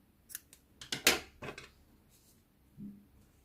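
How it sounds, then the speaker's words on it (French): Scissors snip through crochet yarn at a triceratops amigurumi, several quick, close, faint metallic cuts and clicks in a quiet room. "je vais couper le fil."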